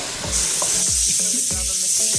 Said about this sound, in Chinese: 将花肉炒到半熟